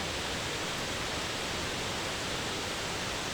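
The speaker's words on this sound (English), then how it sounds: "this is the closest I've ever been to an actual waterfall in my life" Steady roar of a waterfall heard up close, broad and unbroken noise with no pauses or other sounds across the moment.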